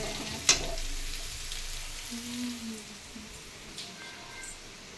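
Potatoes and almonds roast in a pan with a soft, steady sizzle and occasional stirring, heard faintly under ambient noise with a brief sharp click near the start.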